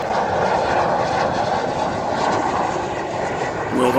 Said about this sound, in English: check out this real live fighter jet coming in for our landing